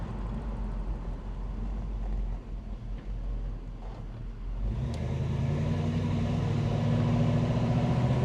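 A 1975 Pontiac Trans Am with a 455 cubic inch V8 rumbles on the road, a low steady drone that deepens and grows louder about halfway through as the throttle opens, heard from inside the car.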